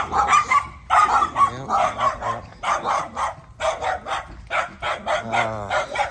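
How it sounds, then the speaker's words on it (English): Several dogs bark repeatedly and loudly nearby, overlapping yaps and woofs in an irregular, continuous chorus. "here's our lovely barking dogs here"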